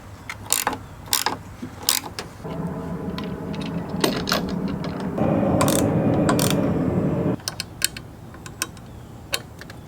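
Ratchet-style clicking while Allen bolts are tightened on a mount for 4-inch light pods: sharp, irregular ticks at close range, joined midway by a steady buzzing mechanical drone that stops abruptly.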